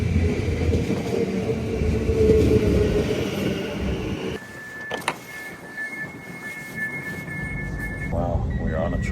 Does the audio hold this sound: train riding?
yes